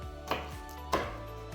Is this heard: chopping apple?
yes